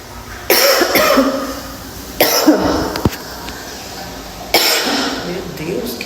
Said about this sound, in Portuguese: que tosse é essa